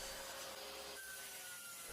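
A hand saw finishes a cut through wood for a Japanese shiro joint, a continuous rasping scrape, close and quiet, with no talk.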